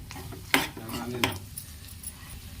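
A spoon stirs cooked rice in a metal pot, giving soft scraping and a couple of sharp clanks against the pot rim, close and without talk.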